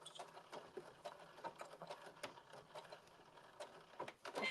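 A sewing machine back stitches on a blazer with a quiet, fairly steady mechanical patter and small clicks, heard faintly at close range.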